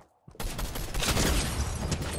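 A burst of rapid gunfire from the video game Fortnite erupts after a brief quiet moment, loud and dense, continuing for about two seconds.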